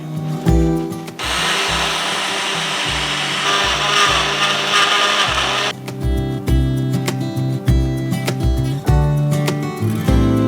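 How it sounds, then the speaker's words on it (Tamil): A mixer grinder jar grinding coarse flour grit for coconut adhirasam, a loud close motor whir with a gritty rush that stops and starts in repeated pulses. "இந்த குருணையை திரும்பவும் மிக்சி ஜாரில் போட்டு அரைச்சிக்கலாம்"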